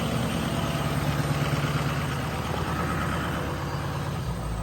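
A 2004 Ford 6.0 Powerstroke diesel pickup with a Western plow runs at high idle, giving a steady, loud, continuous engine drone with no pauses, heard up close and on its own without any talk.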